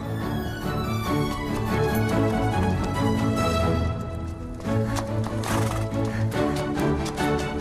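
A horse whinnies loudly with a long shrill neigh, along with clopping hooves and a busy, dense background mix, in an animated fairy-tale scene.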